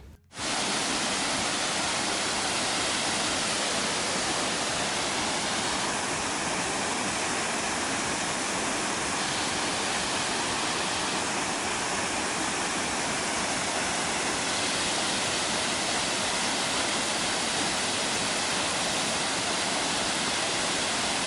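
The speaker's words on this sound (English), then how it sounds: "you can reach this beautiful first waterfall" A waterfall on a hiking trail gives a loud, steady, broadband rush of falling water that stays constant throughout, heard close with no voices.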